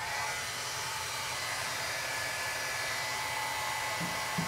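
A hair dryer blows steadily at close range to dry a flower petal shaped on a mat, a constant loud broadband whoosh with no talking.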